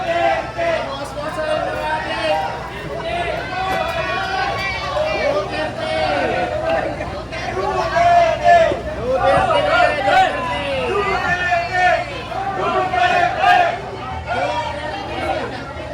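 Dense crowd of voices shouting and chanting inside a Philippine public market, a steady roar of overlapping yells nearby that swells around the middle and stays loud throughout.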